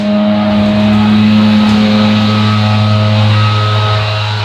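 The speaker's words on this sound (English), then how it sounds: "somebody outside is like leaf blowing, and it is really loud" A leaf blower running outside, a loud continuous droning motor hum with steady tonal whine that holds level throughout, no voices over it.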